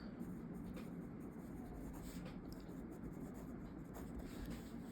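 Pen scratching steadily across paper while writing accounting journal entries by hand, a continuous soft rubbing texture close to the page over a low background hum, with no talk.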